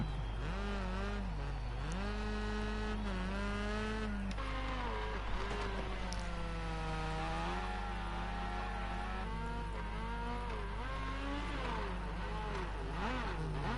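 Rally cars, including a Honda and a Mini, race in the Rally Fighters video game, their engines droning and revving continuously with rising and falling pitch throughout, loud and steady with no pauses.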